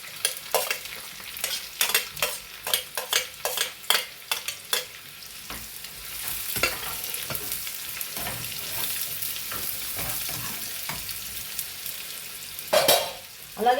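Sliced onions go into garlic already fried light brown in a pan for a lentil dish, and a loud sizzle rises under repeated rhythmic stirring scrapes, settling into a steadier hiss with a burst of stirring at the end.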